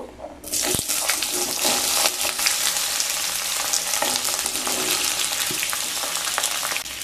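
Cut pumpkin and potato drop into hot oil seasoned with black cumin, bursting into a loud, close, steady sizzle with a crackling hiss that holds throughout.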